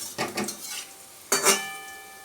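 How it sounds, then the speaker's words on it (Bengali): Palm fritters fry in a pan, with two short bursts of spatula scraping and clinking over a soft oil sizzle, close and alone. "বড়াগুলো আস্তে আস্তে ভেজে নিচ্ছে"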